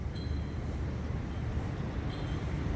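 A train passes along a line in the Chidlom area of Bangkok, heard as a steady, far-off rolling rumble that blends into the city's background noise. No one speaks.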